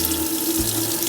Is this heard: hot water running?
yes